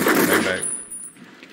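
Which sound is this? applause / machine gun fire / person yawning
machine gun fire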